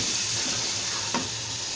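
Powdered spices frying in hot oil for a few seconds, a steady close sizzle with a brief stir scrape partway through, no talk.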